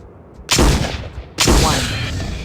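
Gunshots in the video game Trespasser: The Lost World, two loud, close blasts about a second apart, each trailing off into a long echoing decay.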